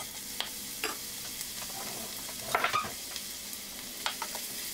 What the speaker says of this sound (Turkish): Doğramış olduğum soğanları burada hafif renk alana kadar kavuracağım.